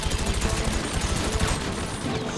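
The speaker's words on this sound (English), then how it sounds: "time to switch the minigun" A minigun in GTA 5 Online fires without letup, a loud, continuous, buzzing roar of rapid shots filling the whole short stretch.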